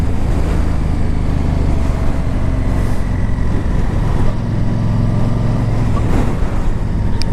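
A 2009 Yamaha V Star 1300 motorcycle engine on a test ride gives a loud, steady low drone with a constant rush of wind and road noise throughout. No one speaks.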